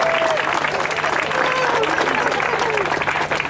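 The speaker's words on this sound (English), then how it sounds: "One more cheer for Dr. Williamson" Crowd clapping and cheering at an ALS ice bucket challenge, a dense, loud burst of applause and shouts held for several seconds, with a few whoops rising above it.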